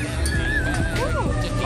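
A horse at riding stables whinnies with a rising and falling call partway through, heard over continuous background chatter and people talking nearby.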